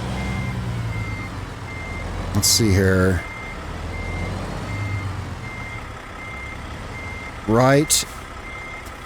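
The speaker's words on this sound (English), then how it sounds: "This truck has a really low geared reverse." A Peterbilt 579 semi truck in American Truck Simulator backs up in a low reverse gear under a steady engine drone. Two loud bursts of reversing beeps are heard near, with someone speaking briefly.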